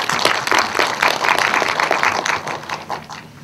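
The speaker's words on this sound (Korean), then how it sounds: "감독님들이 빨리 나오셨는데 박수 한번 부탁드릴게요." An audience at a film screening Q&A applauds the directors with brisk, dense clapping from many hands, loud and close at first and then gradually fading, with no voices.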